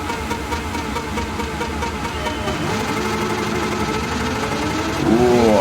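A 1121-horsepower rear-wheel-drive V8 muscle car in Gran Turismo 7, set for a drag racing mission, drones steadily near idle and then climbs into a rising rev in the final moment, loud and continuous.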